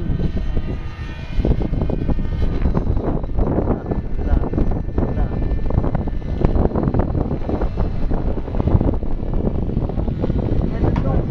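Wind roars steadily over a droning aircraft engine in flight while people talk throughout.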